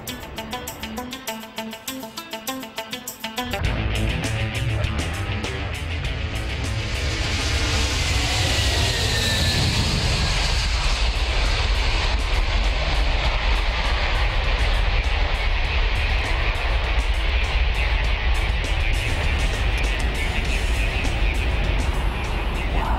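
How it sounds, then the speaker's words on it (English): A 500-ton Antonov An-225 Mriya cargo plane taxiing. A fainter, low rumble is cut off after a few seconds by a loud, steady roar of jet engines with a hissing whine that holds strong to the end. "the Antonov 225, the biggest plane in the world, 500 tons of it now, it's taxiing"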